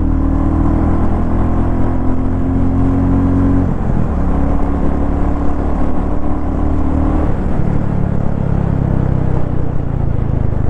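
A 2024 Royal Enfield Classic 350 motorcycle accelerating, its steady low engine drone rising in pitch, dropping briefly around gear changes and climbing again, loud and close with road and wind noise throughout.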